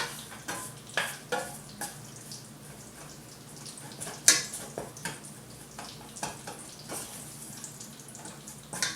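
Broccoli cheddar soup ingredients are stirred in a pot over heat just under medium, making intermittent scraping and clinking strokes with a soft simmering sizzle beneath and one sharp knock midway.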